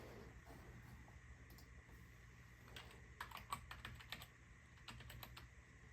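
Quiet typing on a computer keyboard: uneven bursts of soft key clicks over a low background hum, with no voices.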